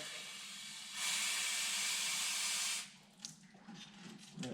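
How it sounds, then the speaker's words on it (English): An aerosol can of contact cleaner sprays onto vehicle light contacts in one steady hiss lasting about two seconds, close by, then stops, leaving faint handling noises. "down here, I'm going to just spray."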